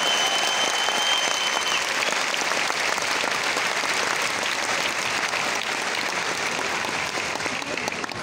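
An audience at a motivational event in Delhi bursts into sustained, loud applause, a dense even roar of many hands clapping that fills the full stretch without pause, with faint crowd murmur beneath.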